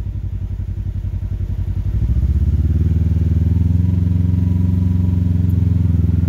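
A Kawasaki Teryx KRX 1000 side-by-side pulls away after a stop, its engine rising from a pulsing idle into a steady, loud, low droning rumble as the drivetrain re-engages.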